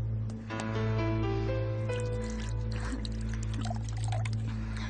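Water pours into a glass in a steady stream, the pitch rising as the glass fills, heard close over a low background hum.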